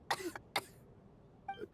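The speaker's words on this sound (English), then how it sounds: "How long have you had that cough, Tonya?" A video game character in Genshin Impact's Snezhnaya coughing, two rough coughs close together followed by a softer throat-clearing cough, all fairly quiet with no talk over them.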